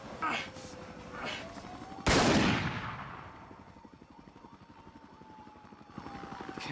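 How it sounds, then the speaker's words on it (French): A loud sharp gunshot bursts out midway, preceded by a couple of fainter shots, over a steady chopping helicopter rotor drone and some voices, during the Columbine school shooting. "Puis il y a eu d'autres coups de feu."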